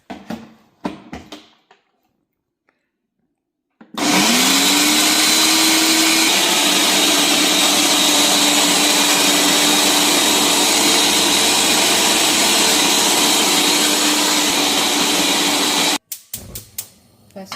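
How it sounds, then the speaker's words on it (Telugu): Mixer grinder whirring loudly and steadily for about twelve seconds as it grinds ginger, garlic and green chillies into a green paste, with short bursts of kitchen noise before and after it runs. "ఇవన్నీ కలిపి పేస్ట్ అంతే మిక్సీ చేసుకోవాలి."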